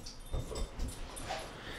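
A dog whimpers and gives a few soft yips close by, brief broken whines over faint background noise, with no one talking.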